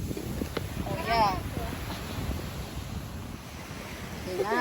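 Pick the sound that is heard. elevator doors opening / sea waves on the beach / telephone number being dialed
sea waves on the beach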